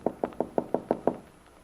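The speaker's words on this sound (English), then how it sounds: "Walking around to the back, Bill taps lightly on the kitchen door." Seven light, quick knocks land on a kitchen door in an even rhythm. They are close and crisp, and quiet follows.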